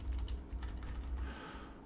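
Computer keyboard arrow keys are tapped in a quick run of clicks, near and moderately loud over a low steady hum in a workshop.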